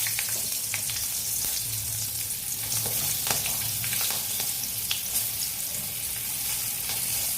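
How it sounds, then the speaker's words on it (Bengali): Green chillies hit hot oil for a koi fish curry tempering, giving a loud, steady sizzle and crackle with occasional stirring scrapes, close and continuous throughout. "ফোড়ন দিয়ে দিচ্ছি কাঁচা লঙ্কা"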